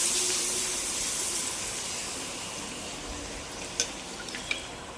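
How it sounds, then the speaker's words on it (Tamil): Appalam papadums frying in hot oil for a turkey berry curry, a loud steady hiss that slowly eases, with a few sharp clicks and pops near the end. "இப்போ நம்ம அப்பளம் பொரிச்சு எடுத்துக்கலாம் குழம்புக்கு."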